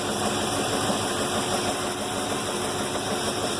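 Steady, continuous running of a Trojan F25 motor during ignition timing adjustment, a close, even mechanical hum and rattle with no speech.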